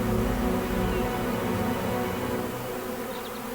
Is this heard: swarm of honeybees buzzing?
yes